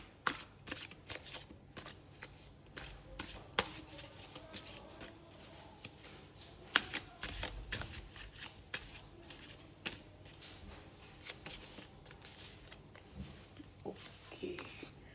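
Tarot cards are shuffled by hand in a steady run of soft, close riffling flicks. Faint voices sit in the background.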